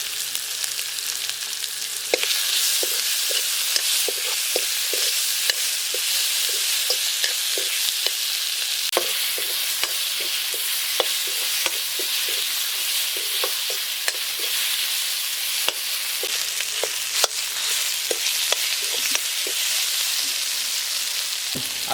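Small pieces of vegetables fry in a pan for an Assamese egg curry with mushroom and potato, giving a steady hissing sizzle broken by frequent light scrapes and taps of a stirring spoon, with no talk.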